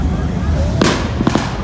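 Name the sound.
gunshots heard on the street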